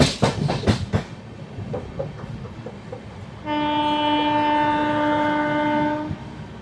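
Seshadri Express 17210 with new LHB coaches pulls out of Anaparthi station, its wheels clattering before a long, steady horn blast sounds for several seconds, close and loud.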